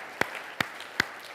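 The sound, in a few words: congregation clapping hands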